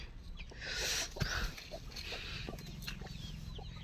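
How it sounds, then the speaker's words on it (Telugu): A backyard chicken clucks softly and briefly near feed, with low, muffled noises and faint rustling around it. "ఇదిగోండి కోడి"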